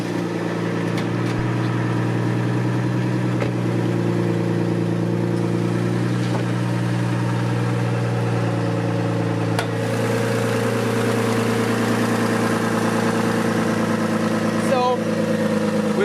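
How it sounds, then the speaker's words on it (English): A GMC Envoy SUV engine idling, rumbling evenly throughout, with a faint ticking rattle from a leaking exhaust manifold over the low hum and no change in pace. "we'll start it up and listen to the motor"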